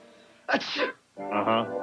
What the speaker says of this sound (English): It seemed like I was born with a cold. Always sneezing.